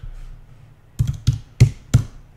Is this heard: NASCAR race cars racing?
no